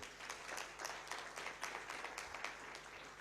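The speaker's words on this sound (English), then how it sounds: "A round of applause to them again." Audience applauding children performers at a child labour dialogue event, quiet, steady clapping with soft individual claps throughout, somewhat distant.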